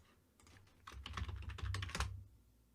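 Keys clack on a computer keyboard in a quick, faint burst of typing, close and with no voices.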